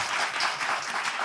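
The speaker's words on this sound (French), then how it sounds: "si vous voulez applaudir, applaudissez" Dense audience applause during a live French-language show, a brief, bright wash of many hands clapping at once.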